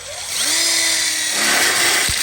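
A power drill drives screws into a welded split bar kit for an outdoor kitchen, a loud close whine rising in pitch as it spins up, holding steady, then cutting off with a thud.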